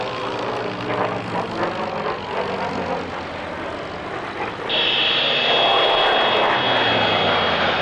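A fixed-wing military jet flies an aerobatic display at the 1999 North Weald Airshow, its loud engine roar shifting in pitch as it maneuvers and swelling into a steady high whine near the end.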